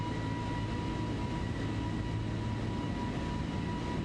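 An A320neo airliner takes off in Microsoft Flight Simulator, heard as a steady, broad engine roar with a faint tonal hum, constant and unbroken throughout, with no talking.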